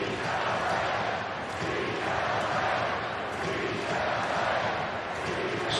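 A huge baseball stadium crowd of over 39,000 at a Dodgers vs Giants game, giving off a dense, sustained roar of cheering that swells and eases in waves without letup.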